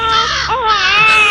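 An infant wails continuously in a drama scene where a crow carries off the baby, the high, strained crying loud and close with a brief catch in the middle.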